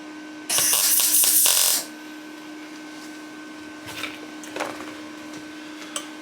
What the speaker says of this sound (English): going to do 4 tack welds and then seam weld between